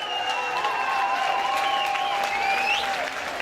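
A crowd at a semi-pro MMA event applauds both fighters in the ring, with steady, dense clapping and some cheering that carries on unbroken for a few seconds.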